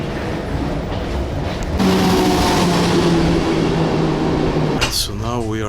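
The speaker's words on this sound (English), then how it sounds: "So now we are on the train to Warsaw or Warszawa." Steady rumble of a Sobieski passenger train travelling to Warsaw, heard from inside a carriage, a continuous low roar with a brief tonal whine and some shifting noise near the end.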